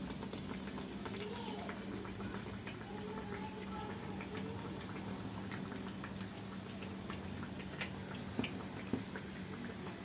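Bread pakoda sizzles in hot oil, a steady bubbling and crackling fry with occasional sharper pops, with a faint voice in the background.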